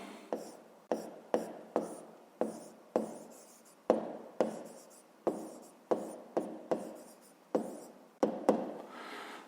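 Handwriting during a fifth-grade maths lesson, a series of sharp pen or chalk strokes in an irregular rhythm, each a short scratch that fades quickly, close and without talk.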